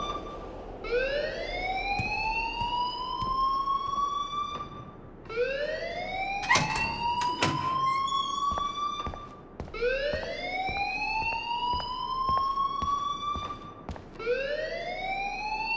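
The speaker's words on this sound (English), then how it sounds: "please turn off that alarm since that's your job" An alarm in the video game Life Is Strange blares as a loud, rising electronic whoop that repeats roughly every four seconds. A brief clatter of noise cuts in partway through.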